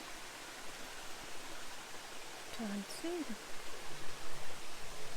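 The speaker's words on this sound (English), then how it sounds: "Nothing like trickling water to relax you." A stream trickles near Mallyan Spout waterfall in Goathland, England, as a soft, steady wash of running water heard faintly. A person speaks briefly over it.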